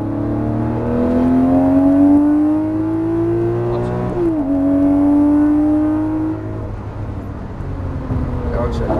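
A Lamborghini Murciélago accelerates hard on the Exotics Racing track in Las Vegas, its engine note climbing through a gear change before easing off, loud and close, with a voice talking over it.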